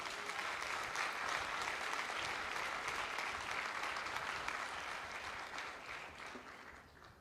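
A church congregation at a thanksgiving service applauds in sustained, dense clapping that fills the room, then gradually fades, with no voices over it.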